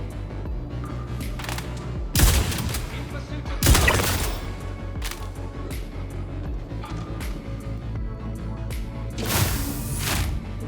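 Gunfire in the Star Citizen video game, including a shotgun, with a few sharp, loud shots spaced seconds apart over a steady bed of game ambience and music.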